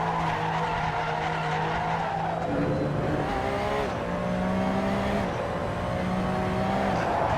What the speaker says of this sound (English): Some violent tire warming up